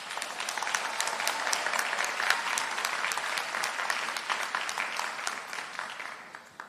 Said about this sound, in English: Please give these wonderful educators another round of applause.